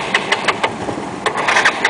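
A stalled, flooded scooter engine cranks over, giving a series of short, rhythmic starter bursts spaced roughly a quarter second apart, loud and close, without catching into a steady idle.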